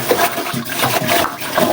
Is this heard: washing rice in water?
yes